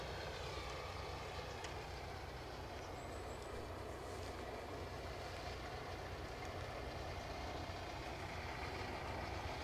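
A steady, distant roar from a Loganair aircraft's engines at Aberdeen airport, a low, even drone that holds throughout with no talk over it.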